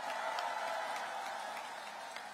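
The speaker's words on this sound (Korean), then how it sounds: "박수 한번 쳐주세요." A rally crowd in Paju claps during a presidential campaign stump speech, heard as a faint, distant, continuous patter of applause lasting a couple of seconds.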